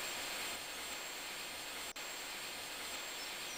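A steady, dense roaring drone like a jet engine runs continuously and loudly, broken by one brief dropout midway, from a pulse jet engine in the video game Minecraft.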